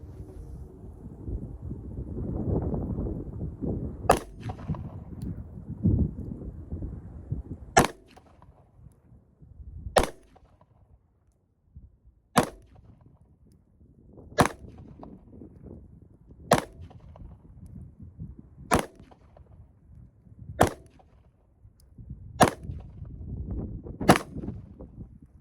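Ten shots from a Glock 43X pistol fired one at a time at a target on an outdoor range, sharp loud cracks spaced a couple of seconds apart, with wind rumbling against the microphone between them.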